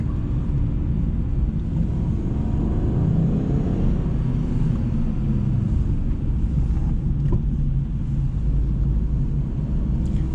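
A Citroen C3 1.2 PureTech heard from inside while driving, with a continuous low engine drone and road rumble under steady wind and rolling noise and no talking.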